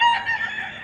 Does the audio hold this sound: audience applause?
no